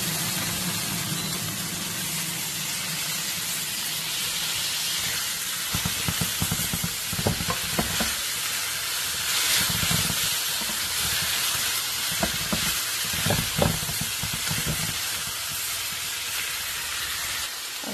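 Dandelion leaves frying in a pan with garlic leaves and browned onion, giving a steady, close sizzling hiss with brief crackling bursts as the greens hit the hot oil.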